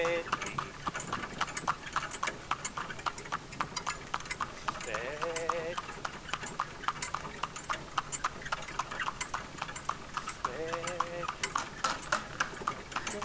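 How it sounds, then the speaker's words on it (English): The horse Kiss trotting through a village while driven, hooves giving a steady even clip-clop on hard ground. The beat runs throughout and someone talks over it. "She trots over the drain without slipping."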